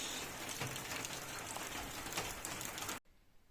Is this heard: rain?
yes